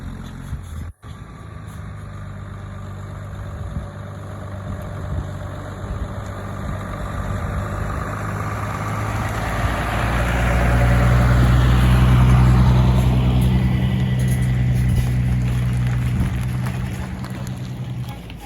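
Dodge Cummins diesel pickup truck towing hay equipment over 18,000 pounds, a steady low engine rumble that idles and then swells as the truck pulls away, loudest mid-clip before settling into a constant driving drone.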